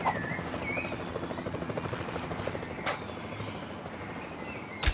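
A helicopter in the Runventure iOS mobile game gives off a steady, dense rotor whir that runs throughout at even loudness, with a couple of brief sharp game effects cutting through.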